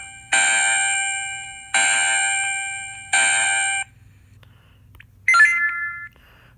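Electronic bell-like alert tone played through an LM386 audio amplifier: three loud, evenly spaced ringing chimes, each sustained and slowly fading, followed by a brief softer tone, with faint low hum between.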